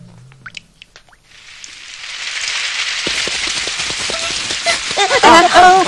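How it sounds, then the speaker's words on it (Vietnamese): Sudden rain in a Doraemon cartoon scene swells from near silence into a steady, loud downpour with dense patter and splashing drops that grow heavier toward the end. "tự nhiên trời mưa"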